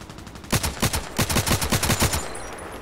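Gunfire from an RFB rifle in the shooter game Contract Wars: a rapid string of about a dozen sharp, evenly spaced shots rattles out in bursts, loud and close, with no talking.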